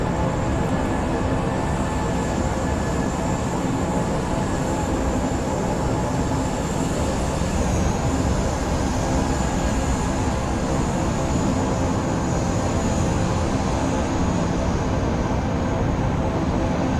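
Boeing 307 engines drone on approach to a runway in Microsoft Flight Simulator 2020. The steady, loud propeller roar continues without a break and holds a constant high whine above it.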